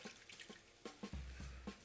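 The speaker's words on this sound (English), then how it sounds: "you're going to add 150 millilitres of water" Water is poured into a pan of potatoes being cooked for saag aloo, a short splashing gush close by with small clinks around it.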